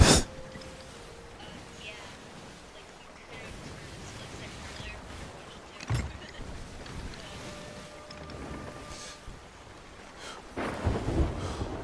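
A thunderstorm rages at sea in Sea of Thieves, with rumbling thunder, steady rain and wind around a ship and occasional louder cracks, while a voice talks over it.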